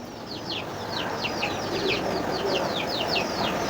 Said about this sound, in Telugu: మా ఆయన చూడండి ఈ పుంజులు కూడా వదలడు, వీటిని పెంచుతున్నాడు